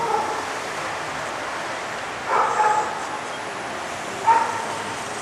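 Dogs bark in short yapping bursts at an outdoor animal-welfare rally outside Parliament House in Adelaide, two brief clusters of barks rising over a steady background of open-air crowd ambience.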